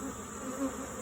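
Honeybees buzz continuously during a hive removal in an old barn, a steady, fairly close droning swarm hum with no voices.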